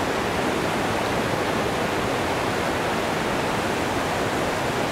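Waterfall on Vancouver Island roars as a steady, dense rush of falling water, close and continuous with no pauses or voices.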